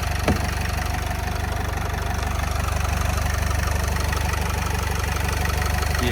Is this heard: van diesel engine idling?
yes